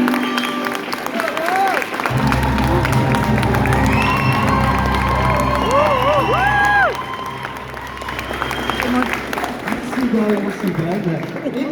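A concert audience at the Lorcaquest show applauds and cheers loudly and steadily, with whoops and shouts rising over the dense clapping and a voice speaking through the crowd noise.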